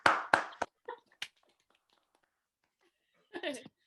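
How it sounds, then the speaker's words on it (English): An audience claps for Jamie, a few loud, close hand claps at the start that quickly thin out into scattered taps, then a short burst of chatter and laughter after a pause. "let's have a round of applause for Jamie"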